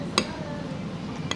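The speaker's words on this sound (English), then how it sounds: "I'm mixing the bibimbap." A metal spoon clinks twice against a bowl while bibimbap is mixed, two sharp separated taps over a low steady room hum.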